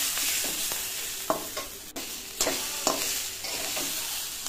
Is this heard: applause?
no